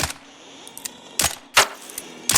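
Gunfire in the video game Arc Raiders as a player shoots ARC robots, a few sharp separate shots cracking out over a quiet electronic background hum.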